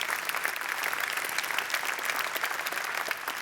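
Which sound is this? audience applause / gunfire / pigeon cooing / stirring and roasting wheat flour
audience applause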